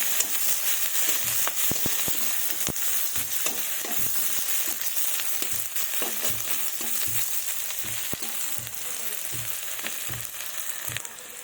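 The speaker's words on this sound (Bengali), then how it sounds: "পাঁচ ফোড়ন দেবো, এবার একটু ভেজে নেবো এটাকে।" Panch phoron spices fry in oil with chopped onion, giving a strong continuous sizzle punctuated by sharp crackles and pops, close and loud, without speech.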